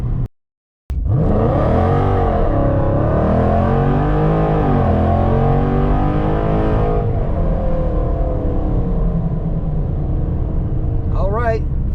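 A car with a 5.7 Hemi V8, 3.70 gears and Nitto 555R tires pulls hard from a stop in a 0-60 run, the loud engine note climbing and dropping through shifts after a brief silence, continuing steadily to the end.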